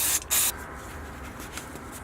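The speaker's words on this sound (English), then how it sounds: "Give that a spray down here with some brake cleaner." Two quick hissing bursts of brake cleaner sprayed from an aerosol can onto a Mazda RX-7 FC engine while checking for boost leaks, close by, followed by a low steady background hum.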